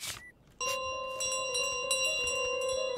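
A handbell rung by the goose in Untitled Goose Game, repeated bright metallic clangs with ringing tones that sustain and overlap, coming in a quick irregular series after a short pause.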